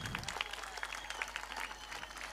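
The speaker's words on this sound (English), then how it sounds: "Can we have a big round of applause for the students of NPS Singanayakanalli?" A crowd at a school annual day applauds the students, moderate clapping heard at a distance over a steady low hum, lasting briefly without voices.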